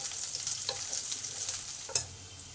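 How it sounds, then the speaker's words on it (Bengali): Chopped garlic and green chili fry in a pan with a soft, steady sizzle, punctuated by a few quiet stirring clinks and one sharper utensil knock near the end. "কাঁচা লঙ্কা কুচি আর রসুন কুচিটাকে ভালো করে ভেজে নেব"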